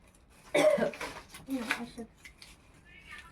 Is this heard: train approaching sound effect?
no